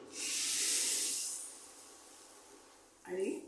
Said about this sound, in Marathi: ही फोडणी ह्याच्यावर घालायची